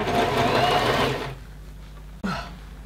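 A sewing machine runs close by, zigzag stitching the end of a fur headband tube to trap the elastic. A loud, steady mechanical whir lasts about a second, then stops, and a brief burst follows after a short pause.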